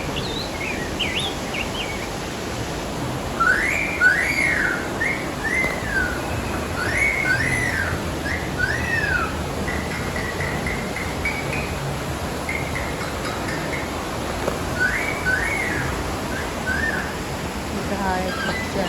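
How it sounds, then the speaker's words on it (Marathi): Birds whistle and chirp in repeated bright phrases at an aviary theme park in Mahabaleshwar, over a constant rushing background like flowing water; the calls come in clusters from moderate distance. "हा एक पक्षी आहे."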